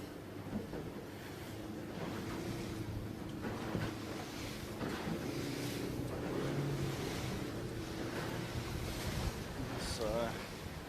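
Steady wind buffets the microphone while a racing sailboat slaps through choppy water in an Australian championship race, giving a continuous rushing roar with soft irregular thumps of waves and a faint voice underneath.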